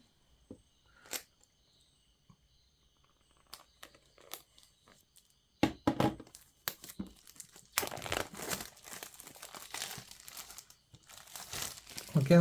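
Plastic seal and wrapping come off an iQOO 9T phone box, close crinkling and tearing in scattered bursts that grow busier and denser toward the end, with no talk.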